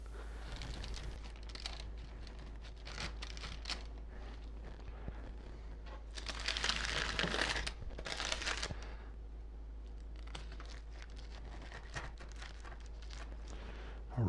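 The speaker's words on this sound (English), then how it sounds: "I'm going to go with the knife" A knife saws through a chicken club pizza topped with chicken chunks and crisp bacon, giving close, scattered crunchy cracks and scraping bursts over a low steady hum, loudest in a dense middle stretch, with no voices.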